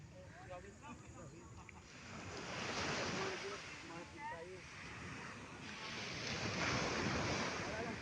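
Sea waves wash steadily onto Gumaos beach in Paracale, a broad surf roar swelling and easing under wind buffeting the microphone, with voices chatting faintly in the background.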